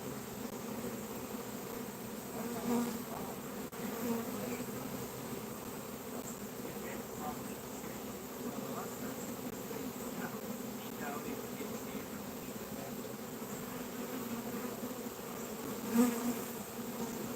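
A large swarm of honey bees, roughly ten to twelve thousand strong and being evicted from a tree, keeps up a steady, dense drone close by for the whole stretch, with no talking.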